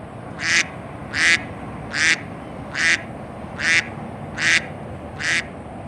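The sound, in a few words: bird foraging along a creek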